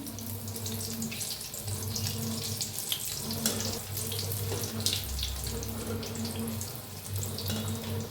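Chili bhaji sizzle steadily in hot oil, a continuous close frying hiss and crackle with no pauses and no speech.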